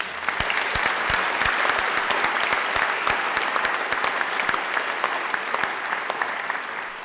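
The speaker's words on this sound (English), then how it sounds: "Let's give Angela another great round of applause" Audience applause at a university graduation ceremony, a large hall full of sustained clapping with sharp individual claps standing out close by, steady and loud throughout.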